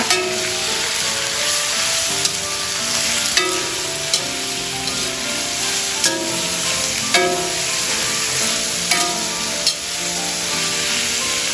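Eggplant being stirred as it fries with bay leaf, lime leaf and spices in a pan for tauco Padang: a loud, continuous sizzle with spatula scrapes and knocks recurring every second or so.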